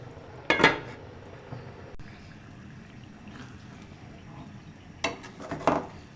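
A metal lid clinks onto a pan of fenugreek (methi) keema with spinach, two short clattering bursts near and fairly loud over a low background hum.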